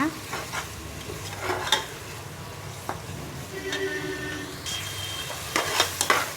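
Mutton biryani masala with curd is stirred in a cooker pot over a medium flame, a steady close sizzle under repeated clattering spoon strokes, with a faint beeping tone passing in the background.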